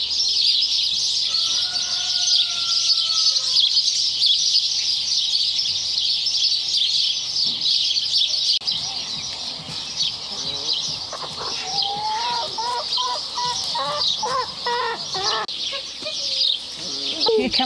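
Chickens in a garden pen make a steady stream of chirps and clucking calls, moderately close, with brief bits of people talking mixed in over a constant high insect-like buzz.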